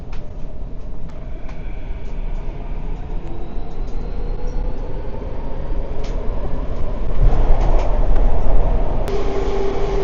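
A Metro Vancouver SkyTrain bound for Richmond-Brighouse runs with a loud, steady rumble and rattle of wheels on rails, a faint whine rising over it as it gathers speed.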